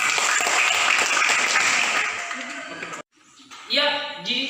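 Applause breaks out in a university classroom practice-teaching session: a steady wash of many hands clapping for about three seconds, ending abruptly before a voice speaks.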